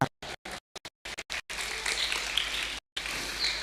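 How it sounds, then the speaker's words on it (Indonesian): Applause breaks out for six participants at a Quran completion ceremony of a Quranic school, beginning in short choppy bursts separated by silences, then swelling into a continuous round of clapping with a brief gap near the end. "Beri tepuk tangan buat ke-6 peserta kita"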